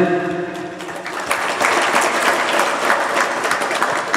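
Applause from a gathering at an Islamic boarding school talk: a full crowd claps steadily after a faint voice fades at the start, building slightly and holding at moderate loudness to the end.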